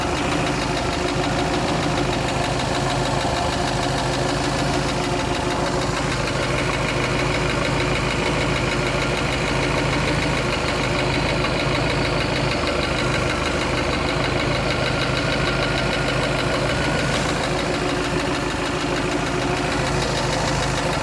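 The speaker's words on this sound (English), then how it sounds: "Sounds like it might have just a little bit of a lifter noise." A 1976 Mercruiser 120hp boat engine idles on its carburetor, a loud, continuous, even rumble with a faint ticking lifter noise running through it, steady throughout with no voices.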